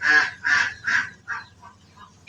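Ducks and chickens call at home in the morning: three loud, honking calls in quick succession, then a few shorter, fainter calls trailing off.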